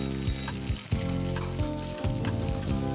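Curd poured into a sizzling onion-tomato masala for vegetable biryani gives a steady, close frying hiss with a few sharper spits and bursts; a low tonal hum runs underneath.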